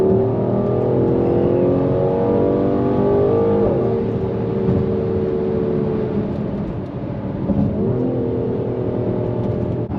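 Mercedes GLC 43 AMG engine revving hard under heavy throttle, a loud, sustained close-up roar with rising and falling pitch as it pulls through the gears for about ten seconds, with no talking.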